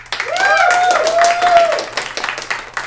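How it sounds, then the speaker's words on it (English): An audience voting on a movie claps and cheers, producing a short burst of close applause mixed with excited shouting voices. "We're going to do that by cheers and rounds of applause."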